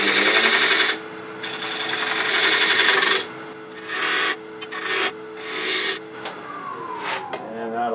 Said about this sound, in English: so I'm going to use a detail gouge. A very shallow flute. I can get right into that corner.